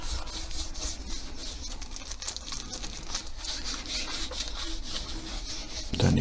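Wax rubbed over a wooden coat rack with cubbies by hand, a steady close-up scuffing and rasping with brisk circular strokes, ending in a sudden louder thump.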